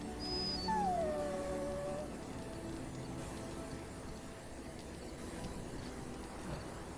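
A dog companion in the fantasy video game Dragon Age Origins lets out a single rising-then-falling howl that tapers into a whimper, heard up close over a low ambient game background.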